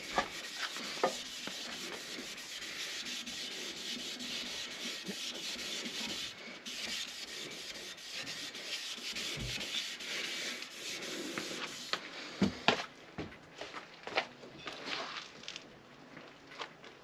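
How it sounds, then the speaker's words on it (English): A cloth rubs in steady strokes to buff ceramic coating off a car wheel, a soft close scrubbing hiss that breaks into a few sharper scuffs near the end, with no voices. "I'm basically buffing it off now"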